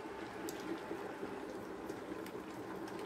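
Watermelon jam simmers in a pot, giving a faint, steady bubbling with small pops and sputters, close and quiet with no talking.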